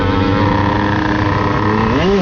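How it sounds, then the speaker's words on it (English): Yamaha DT motorcycle with a 70cc kit idling and revving steadily up close, a dense buzzing two-stroke drone that climbs briefly in pitch near the end. "Aujourd'hui on est sur ma nouvelle bécane, Yamaha DT, kit 70, top pair."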